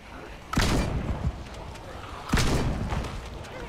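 Two sharp gunshots in the zombie survival video game Project Zomboid, about two seconds apart, each a loud crack with a short booming tail over faint background noise.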